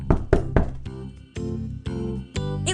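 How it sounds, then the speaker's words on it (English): Knocks on a wooden door come in quick groups of two and three, each rap sharp and close. A short chime rings at the very end. "Cinderella was cleaning her stepfamily's house when she heard the knock on the door"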